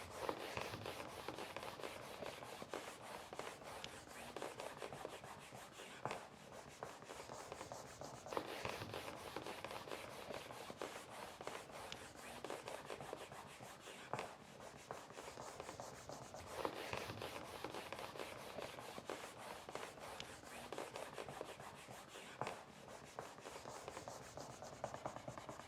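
Cloth rubbed steadily over a surface while a piece is pulled tight into shape, a continuous close scrubbing texture with repeated strokes throughout and no talking.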